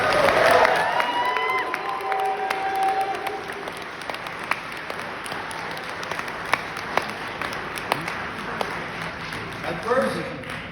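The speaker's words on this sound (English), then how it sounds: "a big round of applause with a lot of whoops and hollers in there" A large audience at a Marine Corps ball breaks into sustained applause, dense clapping with scattered whoops and cheers, fading gradually in a big reverberant hall.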